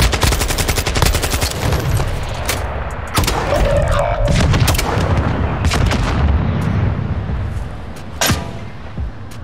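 Heavy gunfire in Call of Duty Warzone 2.0, loud sustained bursts with sharp repeated shots and booming cracks throughout, near and continuous, with little talk.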